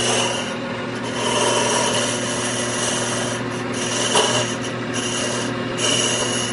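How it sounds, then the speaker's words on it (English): A lathe cutting tool lightly turns a shoulder into the lip of a wooden box, giving a continuous close scraping, rubbing sound over a steady machine hum, with small variations as the tool moves, and no talking. "We're just going to be coming in very lightly with it, cutting that little shoulder."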